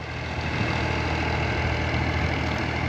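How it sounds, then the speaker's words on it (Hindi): A tractor engine runs steadily while ploughing a water-flooded field after the wheat harvest, a constant close rumbling drone with no pauses and no talking. "ये आप देख सकते हैं कि पानी के अंदर ट्रैक्टर चल रहा है।"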